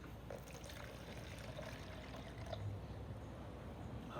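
Water is poured out of a cup into another container in a classroom capacity experiment, a steady soft trickle and splash running continuously at low level with no talk.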